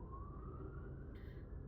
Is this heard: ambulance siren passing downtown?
yes